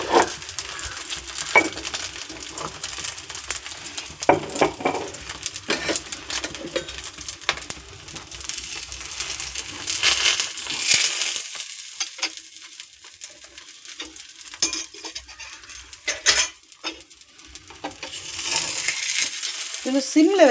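Vegetables sautéing in a pan for a healthy breakfast: a steady sizzle with intermittent stirring scrapes and clinks, close and moderately loud, with no talking.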